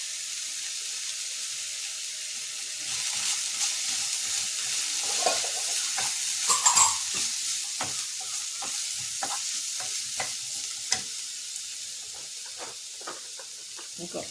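Curry leaves dropped into hot oil give a soft, steady sizzle, with stirring and light clatter of a utensil against the pan throughout, and a few brief louder crackles in the middle.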